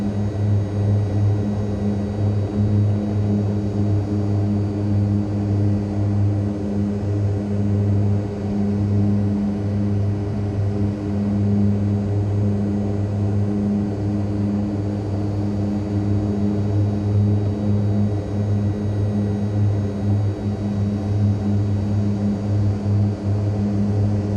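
Propeller airplane in Microsoft Flight Simulator 2020 on a scenic flight along the river over Victoria Falls, giving a loud, steady engine drone that holds constant throughout with no talking.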